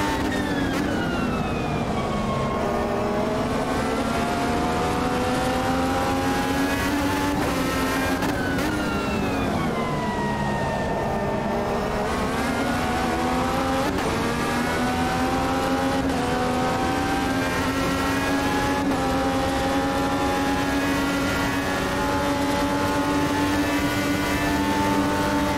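A race car engine in the racing game Automobilista 2, a steady, loud, high-revving whine that climbs and drops through gear changes over a long continuous stretch, with no talking.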